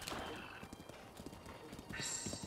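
Rapid hoofbeats of a galloping horse clatter steadily amid rainy ambience and game sounds in The Legend of Zelda: Breath of the Wild, fairly faint, with voice-like murmurs underneath.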